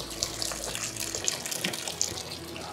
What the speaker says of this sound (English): So now that the water's drained off my potatoes